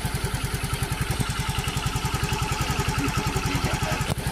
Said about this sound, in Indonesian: Ini motor udah nyala ya nih.